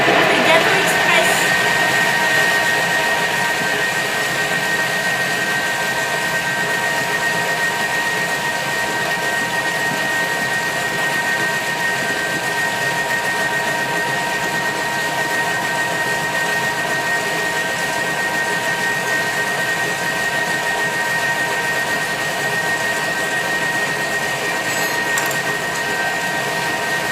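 Thermomix blending express cake batter at speed 6, a steady loud whirring motor drone that holds evenly throughout with a voice talking over it.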